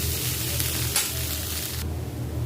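Boiled taki fish being fried with spices in a pan sizzles in a steady, close hiss, with a stirring scrape near the middle and no talking.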